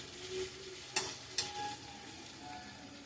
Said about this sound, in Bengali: এটা আর একটু কষবো, তারপর সিদ্ধ করা এঁচোড় দিয়ে দেবো।